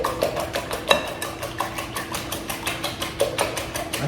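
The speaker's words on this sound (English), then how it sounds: "Let's get to the whisking." Eggs whisked in a bowl, likely in a catering kitchen, with a steady rapid rhythmic clatter of the whisk against the bowl, close and continuous, with no talking.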